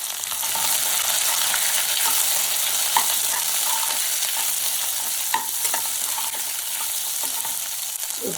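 Green chili and onion sauté in hot oil in a Tamil tomato coconut milk kootu, a steady loud sizzle with occasional stirring scrapes and small pops throughout.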